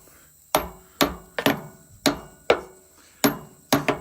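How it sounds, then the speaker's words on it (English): A hammer strikes a metal pipe on a crashed aircraft in a corn field, eight or nine sharp ringing blows at uneven intervals, close and loud with faint background between strikes. "Like I said, not very accurate with the hammer."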